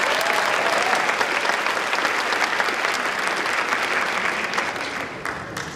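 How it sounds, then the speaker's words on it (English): Loud, sustained applause from a large audience at a school district convocation, many hands clapping evenly for several seconds before thinning out toward the end. "another round of applause for our speakers"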